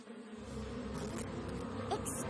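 Insects buzz in a steady, fairly close drone throughout, a cartoon swarm of bees with a continuous hum and a faint sharper whine near the end.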